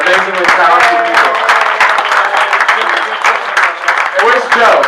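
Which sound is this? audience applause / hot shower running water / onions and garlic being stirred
audience applause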